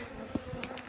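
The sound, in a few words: honeybees buzzing around beehive at apiary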